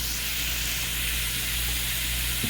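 Onion and Italian sausage sizzling in a pan, giving a steady, loud, close hiss that runs the whole time with no breaks and no voices.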